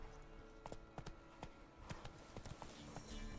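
Horse hooves clip-clop in a steady walking rhythm in the Witcher 3 video game, moderately close, with game ambience around them.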